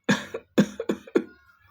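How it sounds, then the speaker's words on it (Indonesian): Four soft, short coughs from a person, two separate bursts followed by a quick pair, close and alone with no talk. "Saat kemudian Sandilaga itu berbatuk-batuk lirih"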